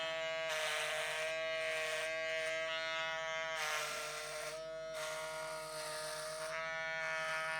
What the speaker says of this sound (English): we're going to go in with the electric shaver and just bald the sides out